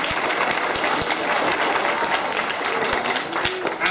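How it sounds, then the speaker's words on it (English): An audience at a school World Book Day storytelling event breaks into sustained, dense applause, many hands clapping at once, loud and steady for the whole stretch. "Big round of applause"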